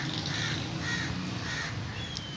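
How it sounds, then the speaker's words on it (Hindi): Harsh parrot squawks sound over a constant loud background hum, several raspy calls in a row with a thin whistle near the end. "ये अयान के तोते हैं, इतने प्यारे प्यारे तोते हैं।"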